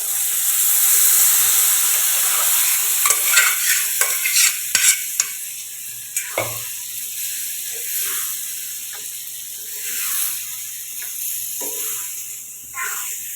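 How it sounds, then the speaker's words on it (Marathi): Mashed dal and rice stirred into spices in a hot pan, a steady soft sizzle with repeated scraping and clattering strokes of a spoon, fairly close, with a faint background hiss. "आता ह्याच्यामध्ये मी टाकणार आहे स्मॅश केलेलं हे डाळ आणि भात आहे हे टाकून घेणार आहे"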